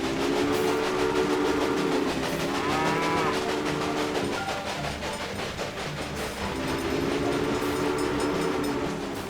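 Trains in the strategy game Railway Empire, with steady rumbling rail noise, horn-like tonal blasts and a lowing cattle call layered over a continuous loud ambient bed, no talking.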